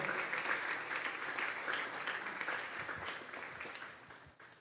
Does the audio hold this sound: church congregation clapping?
yes